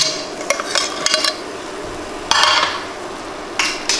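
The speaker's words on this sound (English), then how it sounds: "We're going to get these onions back in the pot, or back in the skillet. Get all that liquid up in there." Onions being stirred in a cast iron skillet with some liquid, giving a few sharp metallic scrapes and clinks of a utensil against the pan in separate bursts over a soft sizzle, with no talking.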